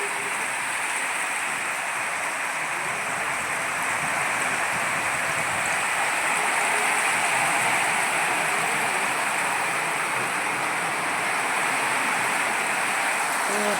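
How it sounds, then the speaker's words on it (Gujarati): Steady rain falling in a village during a windy mini-storm, a continuous broadband hiss with a low rumbling wash underneath, constant and fairly loud throughout with no voices. "વરસાદ તો જોવો રહે."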